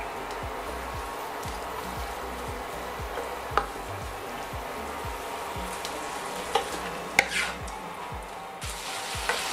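Cut shrimp and vegetables fry in a hot pan with a steady sizzle as the liquid cooks off, broken by a few light clinks of a utensil against the pan.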